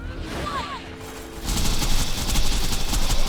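Video-game turrets fire a rapid burst of gunfire that starts abruptly partway through and keeps rattling loudly to the end.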